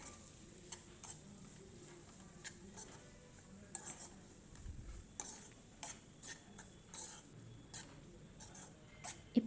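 Chutney ingredients with a little coconut being sautéed in a pan, a spoon scraping and stirring in soft intermittent strokes over a faint, steady sizzle, close and fairly quiet with no talking.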